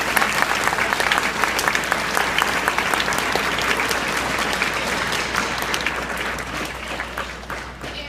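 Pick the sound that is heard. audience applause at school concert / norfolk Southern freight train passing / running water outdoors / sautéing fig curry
audience applause at school concert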